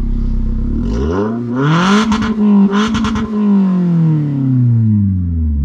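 A Corolla GLI 1.6 with an aftermarket on/off exhaust set to level four revs up through a loud, throaty exhaust, rising and falling in pitch with crackly bursts between pulls.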